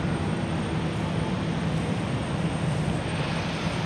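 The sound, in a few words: airplane making a low pass over runway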